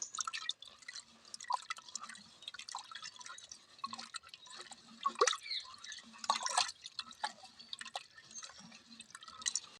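Green tamarind is squeezed by hand in water for rasam, making soft irregular wet squishes, drips and sloshes, close and fairly quiet.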